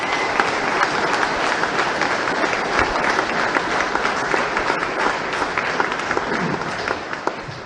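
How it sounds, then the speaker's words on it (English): Steady applause from a crowd at an evening political rally and public meeting in Dundee, continuous dense clapping held at an even level throughout, with no talk over it. "Can we just send him a round of applause tonight?"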